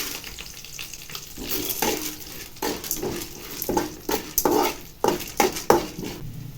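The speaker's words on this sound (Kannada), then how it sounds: "ನಾಲ್ಕು ಹಸಿಮೆಣಸಿನ್ಕಾಯಿ ಕಟ್ ಮಾಡಿ ಇದ್ದೀನಿ ನೆಕ್ಸ್ಟ್ ಕಡಲೆಬೇಳೆ ಆ್ಯಡ್ ಮಾಡ್ತಾ ಇದ್ದೀನಿ" Chana dal goes into a hot pan of oil with chopped green chillies for a bean palya, giving a loud sizzle, stirring scrapes and metal utensil clinks against the pan.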